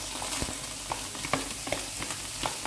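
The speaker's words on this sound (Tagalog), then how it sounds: "So, lalagay na natin ang ating carrots." Grated carrots sizzling in a frying pan while spaghetti meatball sauce is prepared, a steady moderate frying hiss broken by irregular soft stirring clicks and scrapes, with no talking.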